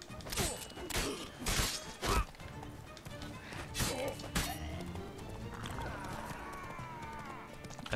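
Horse in The Witcher 3: Wild Hunt, hooves clattering in bursts with heavy impacts and crashes during a chaotic fight, followed by a quieter stretch and a neigh-like cry near the end.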